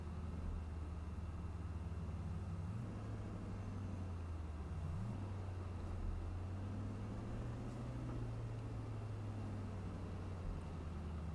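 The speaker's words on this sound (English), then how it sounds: "I don't like the sound of the truck" A low, steady truck engine drone in the video game American Truck Simulator hums throughout, shifting pitch slightly as it revs, quiet and continuous with no talking.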